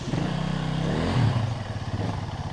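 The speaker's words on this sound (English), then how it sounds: "compressing the suspension and stalling the bike" A KTM dirt bike engine chugs low and close during wheelie practice, a steady throbbing rumble that swells briefly midway and then settles.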